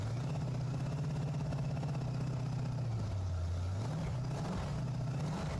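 A Pontiac Firebird Trans Am engine being run in idles and hums, its pitch rising and falling as the revs are varied, steady and close with no talk.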